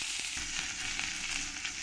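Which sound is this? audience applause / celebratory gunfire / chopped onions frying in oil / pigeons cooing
chopped onions frying in oil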